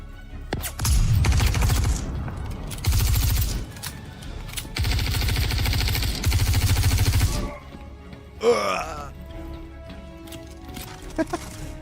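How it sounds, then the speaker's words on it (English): Weapon fire in the Star Citizen video game comes in several loud sustained bursts of rapid shots, separated by short pauses, followed by quieter game effects. "the sound of this weapon is absolutely delicious"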